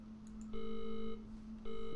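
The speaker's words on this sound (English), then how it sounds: "F to hang up phone." A phone being hung up in the horror video game Visage, heard as a short electronic beep followed by a steady two-part tone over a low hum, faint and close with no talk.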